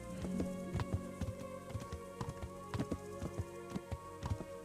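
Steady hoofbeats from a horse walking a road in Kingdom Come: Deliverance, a regular clip-clop rhythm heard moderately close over a faint ambient background.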